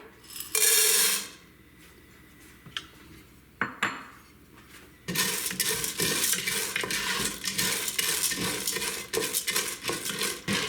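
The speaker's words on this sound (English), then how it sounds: "On medium heat, the oil is now hot. Add the pasta" Pasta drops into hot olive oil over medium heat for beef and macaroni soup. Clinks and a metal scrape come first, then a loud, steady sizzle with light stirring clatter.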